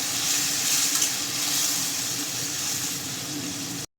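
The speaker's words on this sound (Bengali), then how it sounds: "এখন আমি জল দিয়ে দেবো" Steady sizzling and bubbling of a pan of fish and green tomato curry with potatoes as water goes in, a continuous close hiss without talk that cuts off abruptly at the end.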